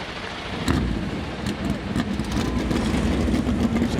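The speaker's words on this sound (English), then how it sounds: "Drivers, start your engines." Stock car engines of the NASCAR Cup Series field fire up and idle at Homestead-Miami Speedway before the Straight Talk Wireless 400, a deep rumbling roar with revving bursts, loud and sustained throughout.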